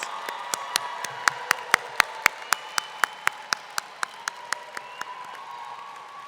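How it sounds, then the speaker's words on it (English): At a university School of Education commencement ceremony, the audience applauds the graduates with evenly spaced, crisp claps, about four per second, over a low hall murmur. "giving another round of applause and even maybe some enthusiastic yelps for our graduates"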